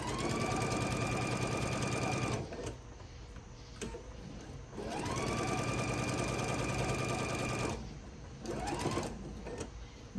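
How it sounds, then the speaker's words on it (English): A sewing machine stitches Christmas tree table runner pieces with a scant quarter-inch seam. It makes close, steady mechanical runs: a long burst, a pause, another long run, then a shorter stop-start stretch at the end, with no talk. "I'm going to put my pieces together and sew my scant 1/4 of an inch."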